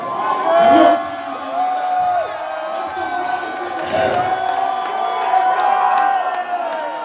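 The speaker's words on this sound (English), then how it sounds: "Look at my crowd right now." A fight-night crowd at a Chosen Few Fighting Championships bout cheers and whoops in bursts under close, loud talk, the voices rising and falling.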